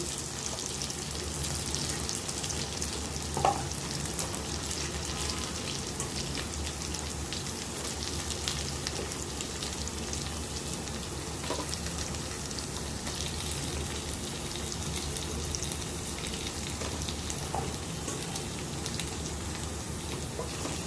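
Potatoes frying in hot oil while cooking a ridge gourd dish give a steady, even sizzle like light rain, continuous and fairly soft, with a few brief louder crackles and no speech.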